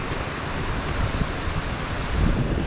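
Running water tumbling down a series of small drops in a stream, a continuous broadband rush heard close up with some wind buffeting the microphone and no voices.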